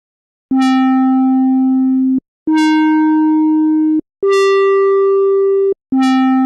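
An Arturia CZ V software synth plays Casio-style phase distortion with an envelope on DCW, four sustained notes at different pitches, each opening with a bright buzzy attack that quickly mellows into a steady hollow tone, separated by brief silences.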